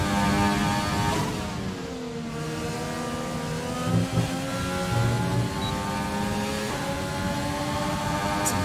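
Formula 1 car engine in the F1 2020 racing game, a steady high-pitched whine that climbs through gears with brief shift dips, loud and continuous throughout with no talk.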